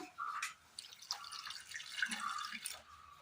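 A little water is added to a pan on the stove holding chopped bitter gourd for a Kerala-style dish; faint, soft splashes and drips come in short bursts in a quiet kitchen.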